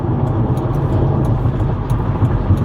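Interior of a car cruising south on the 55 freeway in Southern California at about 65 mph at night, a loud, steady low rumble of road and engine noise with faint ticking overhead.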